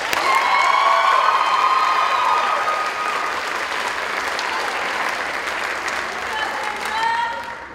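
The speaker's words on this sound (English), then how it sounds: "She really needs her own applause." Audience at a high school end-of-year concert applauds a saxophone player: a full, steady wash of clapping mixed with some cheering and crowd voices, loud at first and gradually easing off.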